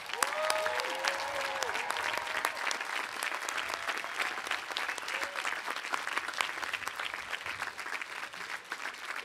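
An audience at the 2022 Williams College commencement ceremony gives the standing graduates a sustained round of applause, loud and dense clapping throughout with faint crowd noise and a few cheers mixed in.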